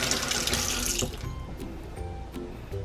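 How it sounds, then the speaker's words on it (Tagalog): A kitchen tap runs hard onto frozen food for about a second, then cuts off, leaving faint dripping and small clinks nearby. "Nilagyan ko ng tubig para mag-moist siya."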